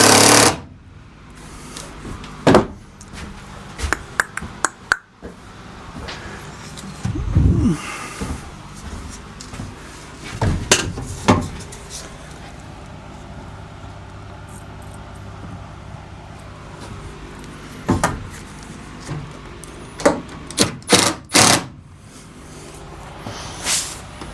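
A hammer drives nails into the wooden cross beams of a workbench in a small shop, giving sharp, loud knocks that arrive singly or in quick pairs amid shuffling and handling noise, with no talking.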